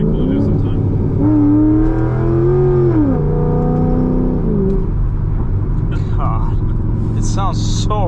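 A modified 2008 Chevrolet Corvette engine revving loudly on a downshift, the pitch rising and falling in a rumbling blip heard from inside the car, with people talking over it.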